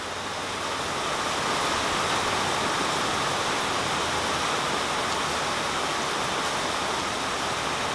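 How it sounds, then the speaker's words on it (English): Heavy rain pours steadily during a thunderstorm over Coeur d'Alene, Idaho, a dense, even hiss with no pauses and no voices. "hopefully this rain goes away come 4th of July"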